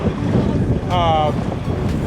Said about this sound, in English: It's really windy, it's really bumpy